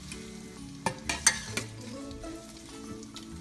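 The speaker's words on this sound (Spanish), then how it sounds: "Una vez que ya esté frito el bell pepper y la cebolla con el laurel y las pimientas" Bell pepper and onion frying in a pan with bay leaf and peppercorns, a close, busy sizzle punctuated by a few sharp scraping stirs.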